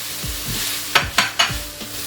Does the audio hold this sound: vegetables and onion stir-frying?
yes